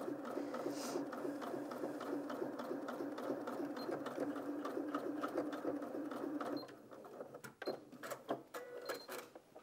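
A Janome M200QDC sewing machine stitches a small piece of fabric with a steady, rapid mechanical chatter up close. It stops partway through, leaving a few scattered clicks and taps afterward.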